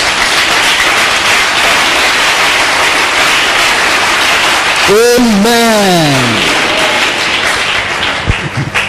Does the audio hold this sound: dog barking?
no